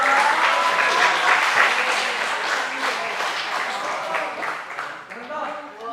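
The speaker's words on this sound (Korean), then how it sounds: "박수 한번 부탁드릴게요" Congregation applauding at a Friday church meeting, a full, sustained burst of clapping from a large crowd that gradually thins toward the end, with some voices mixed in.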